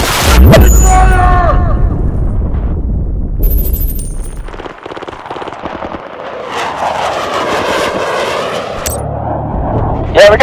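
Gunfire and explosions in Battlefield: Bad Company 2 on the Arica Harbor map: loud booming blasts and crackling shots mixed with aircraft engine roar, with shouted voices over the chaos.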